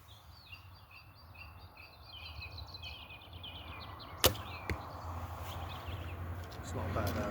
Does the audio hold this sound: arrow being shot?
yes